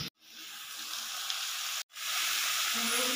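Pumpkin pieces and lightly browned potatoes fry in hot oil for a kumro chop, giving a steady broadband sizzle that briefly cuts out twice, as if the pan is lifted or the mic pauses, then resumes strong.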